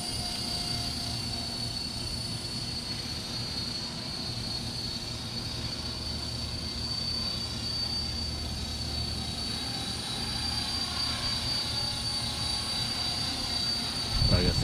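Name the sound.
RC 450 helicopter flying in the wind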